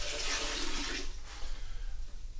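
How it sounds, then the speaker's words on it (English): An RV toilet flushing RV antifreeze through it while a mobile home is winterized: a loud, close rush of water for about a second, then a softer swirling drain that fades. "I'm actually going to flush the toilet, and I'm going to watch that RV antifreeze flow into the toilet bowl"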